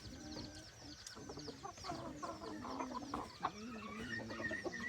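Hens cluck steadily and close by in a coop where a mother hen with six young chicks has been let out, with overlapping calls and soft chatter throughout and no talking.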